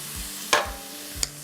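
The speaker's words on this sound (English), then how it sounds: "we're gonna brown that sausage" Crumbled sausage browning in a pan gives a steady soft sizzle, broken by two sharp scraping stirs of a chopping tool against the pan.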